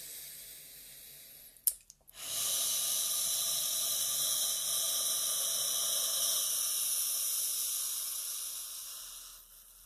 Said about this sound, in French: Donc 3 grandes respirations.